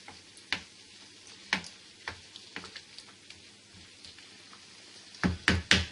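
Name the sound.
bolognese sauce sizzling and simmering in a pan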